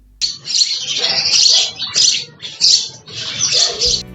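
House sparrows chirp in a busy, continuous chatter of overlapping high tweets, close by and fairly loud.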